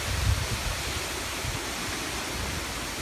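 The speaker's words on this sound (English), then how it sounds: "Here's the gust front right here. It's hitting right as we speak." Strong thunderstorm gust front wind, steady broadband roaring rush with a low rumbling buffet near the start, continuous and loud throughout, no speech.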